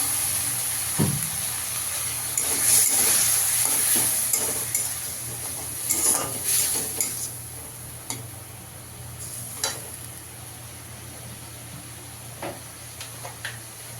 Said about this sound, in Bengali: মশলাটা নেড়ে একটু জল দিয়ে দেবো।